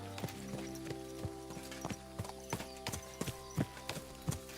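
A horse in the medieval game Kingdom Come: Deliverance walks with steady clip-clopping hooves, each footfall a sharp distinct knock over a faint droning music bed, with no talking.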